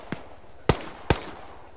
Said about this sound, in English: Shot, shot, shot. I More shots from side.